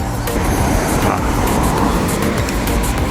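Fast road traffic at a busy Toa Payoh crossing in Singapore near a market, a steady dense roar of passing cars and buses with constant broadband noise and no gaps.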